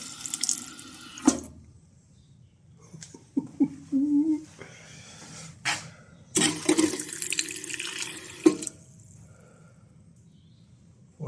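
Water bursts from a push-button bottle filler on a repaired drinking fountain in short gushes and splashes, several separate runs with quiet gaps, close and fairly loud, with a little talk in between.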